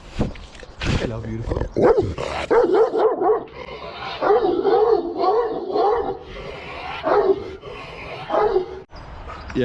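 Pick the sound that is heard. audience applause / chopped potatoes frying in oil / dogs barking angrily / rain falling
dogs barking angrily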